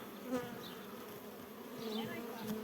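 Bees buzzing actively around a hive and a swarm-catching box, a dense steady drone with individual insects droning close past now and then.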